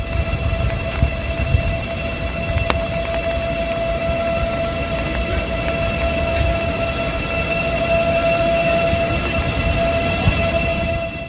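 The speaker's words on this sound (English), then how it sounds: "A huge train running on flooded railroad tracks." A huge train running on flooded railroad tracks rumbles steadily along with a continuous low roar and a sustained tonal hum, heavy and close, without any voices.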